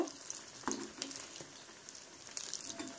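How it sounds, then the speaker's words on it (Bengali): Semolina rospuli pitha frying in a little oil, a soft, close sizzle with light scattered pops and a few spatula taps as the pieces are turned. "এভাবে আপনারা উল্টে পাল্টে একটু লাল লাল করে ভেজে নেবেন"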